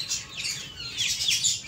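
Pigeon chirps and calls flutter through the clip, light and fairly close, with no talking.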